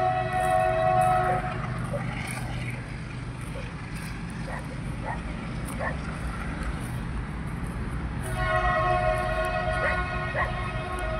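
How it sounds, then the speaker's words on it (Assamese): A train passes beside open fields at sunset. A steady, rumbling roll continues throughout, and loud horn blasts sound at the start and again near the end. "ট্ৰেইন গৈ আছে"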